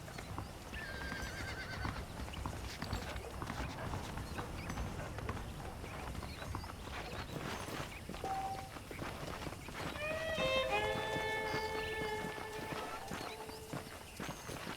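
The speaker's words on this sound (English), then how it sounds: "The horses are saddled up over here." Horse hooves clip-clop steadily at a trot in the video game Red Dead Redemption, with a horse whinnying loudly partway through over a busy outdoor backdrop.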